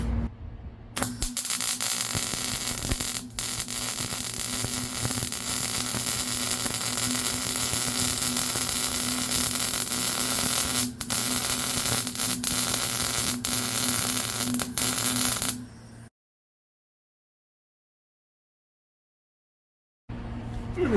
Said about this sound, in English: Maybe I should weld it back together.